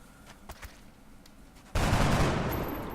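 A gunshot burst in XCOM: Enemy Unknown cuts in abruptly and loudly after a stretch of faint ambient game noise, then holds as a dense, noisy roar that slowly tapers off.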